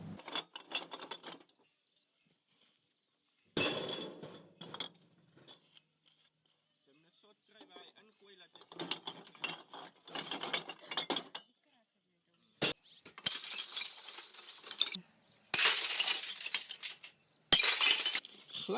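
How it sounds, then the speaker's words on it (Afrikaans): Glass bottles clink, rattle and knock together as they are opened and handled for recycling in Piketberg, in irregular bursts separated by quiet gaps and some talk. "word die bottels ontdop"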